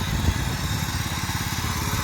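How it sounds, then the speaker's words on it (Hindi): A tractor engine runs steadily in a hilly Kumaon village in Uttarakhand, a continuous close, loud mechanical chug with an even throbbing rhythm and no voices. "कुछ इस तरीके से यहाँ पर ट्रैक्टर चला रहे हैं अक्सर"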